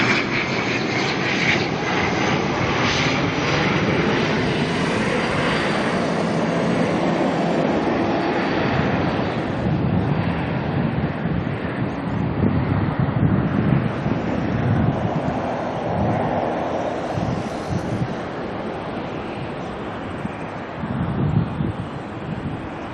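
An ATR turboprop arrives at Auckland Airport from Palmerston North, its engine drone a steady broad roar that swells and shifts as it passes, with gusty wind noise buffeting the microphone and no voices.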